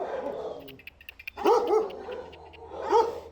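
Dogs in a city animal shelter bark in a few close, moderately loud bursts, with a quieter whimpering yip early on and a hard, echoing kennel sound.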